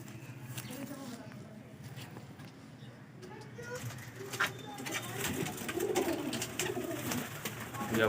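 Breeder pigeons cooing in a loft, soft repeated coos nearby amid rustling and light clatter, with faint background activity growing busier toward the end.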